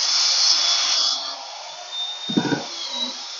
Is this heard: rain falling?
no